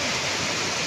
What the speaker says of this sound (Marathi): हा बघा धबधबा.